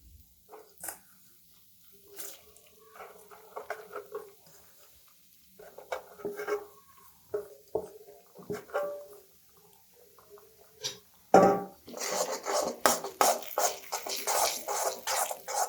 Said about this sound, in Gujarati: લોટને આપણે અંદર એડ કરી અને શેકી લઈશું